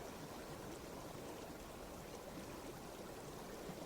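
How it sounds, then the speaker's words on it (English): Steady, faint rushing of a river running high through a rocky canyon, a broad continuous wash of flowing water with no voices or breaks. "The river is higher than usual for this time of year"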